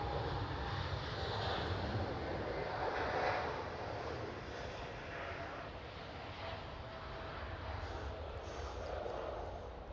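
Distant engine roar from a KLM Boeing 787 departing Amsterdam Schiphol, a faint steady rumble that swells slightly, with no talk over it.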